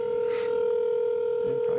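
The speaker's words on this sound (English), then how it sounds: "It's ringing." A steady electronic telephone tone hums over the line, a continuous ringback-like pitch with faint background noise.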